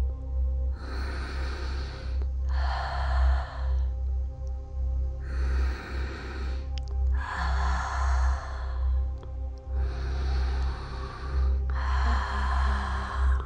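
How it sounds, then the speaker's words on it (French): Slow, deep meditative breaths, six long airy inhales and exhales in steady alternation, close and clear over a low background hum, with no talking. "J'inspire plusieurs fois profondément et j'expire profondément."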